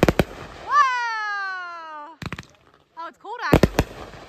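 Fourth of July fireworks finale in Kentucky: sharp, close bangs open the clip and return in a loud cluster near the end, with a long tonal whistle and short, sparse sounds in between.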